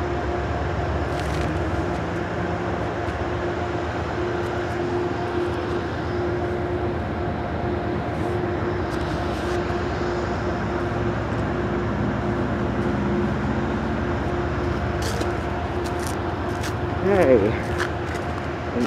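Amtrak train rolling through Croton-Harmon station, a steady broadband rumble and rail hiss that holds for the whole stretch, with a brief squeal near the end and people talking nearby.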